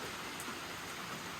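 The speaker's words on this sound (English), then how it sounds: "we did get a little rain after all, but the sun is still out" Light rain falls steadily near a waterside home, a soft, even hiss of drops with no other sounds over it.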